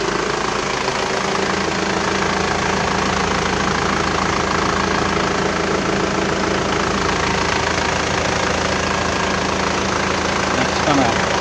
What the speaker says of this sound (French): Et c'est vraiment l'air plus silencieux le moteur là.